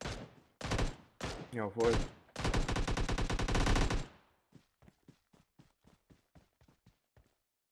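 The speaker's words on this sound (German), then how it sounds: "Da vorne wird geschossen." Gunfire in the mobile game PUBG Mobile: loud bursts of rapid automatic fire for the first four seconds, then a string of faint, evenly spaced distant shots, with a brief spoken word among them.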